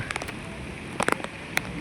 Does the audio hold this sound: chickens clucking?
no